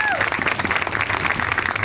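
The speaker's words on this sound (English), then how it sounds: "Let's give that young man another round of applause." An audience at a Kunta Kinte-Alex Haley memorial anniversary celebration claps for a young man, a lively, continuous round of applause from a crowd, with a brief descending tone at the start and voices faintly mixed in.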